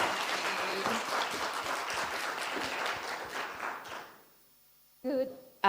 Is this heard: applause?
yes